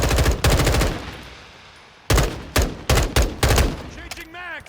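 Automatic gunfire in the Modern Warfare 2 beta: a loud opening burst, a quiet gap, then a string of short, punchy bursts at close range, ending in softer clatter.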